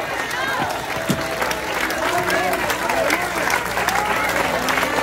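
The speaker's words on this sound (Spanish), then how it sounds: "Denle ese aplauso al rey." Congregation applause and cheering at a church sermon service, a steady dense crowd sound throughout with voices shouting and talking over it.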